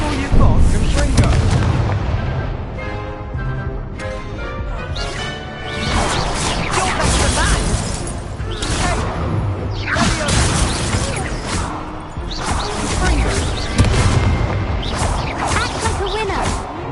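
Confringo spell blasts in Hogwarts Legacy combat, with loud booming explosions, crashes and whooshing swishes bursting repeatedly amid game audio, while voices speak over the action.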